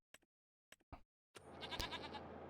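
Goats bleating in the farming video game Farming Simulator 25, a few short separate calls followed by a longer, louder, sustained bleat from a small herd of young goats, close and clear with no talk over them.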